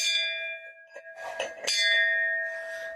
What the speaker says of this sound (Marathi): घंटानाद करण्यासाठी वर घंटा सुद्धा टांगवलेल्या आहेत